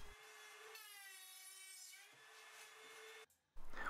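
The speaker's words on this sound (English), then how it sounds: "I'm going to join it all together with some finger joints using my router jig." A router in a finger-joint jig whines at a steady high pitch while cutting thick wood, the tone dipping slightly under load before cutting off abruptly near the end; close and loud, with no talking.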